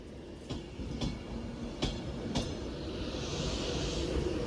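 A Class 390 Pendolino electric train moves through Manchester Piccadilly station, a low rolling rumble with a few sharp rail clicks spaced across the first seconds and a rising hiss toward the end, heard at moderate distance without talk.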